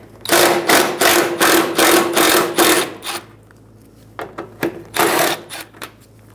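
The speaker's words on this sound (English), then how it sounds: "Using a 10 millimeter socket, remove the two screws on the outside." A 10 mm socket ratchet backs out bumper screws on a 2010-2014 Subaru Outback. It makes a long run of fast, loud, close clicking bursts, then a few shorter bursts after a pause, with no talking.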